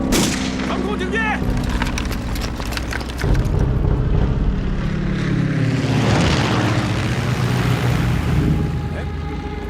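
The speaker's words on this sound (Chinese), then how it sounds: "好像是友军的飞机啊！" Military aircraft pass overhead in a wartime drama, a loud broad roar that swells and holds across the clip.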